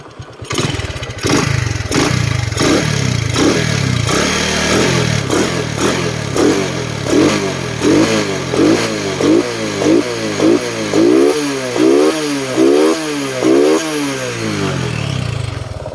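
A Honda Wave 125 scooter-style motorcycle revs up through its gears, a loud, close engine drone climbing in pitch in repeated surges, each shift dropping the note before it rises again, with no talk over it.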